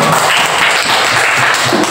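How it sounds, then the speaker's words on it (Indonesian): Steady applause for a student group in a classroom religious lesson, a dense continuous clatter of many hands clapping nearby for about two seconds. "Tepuk tangan dulu untuk kelompok."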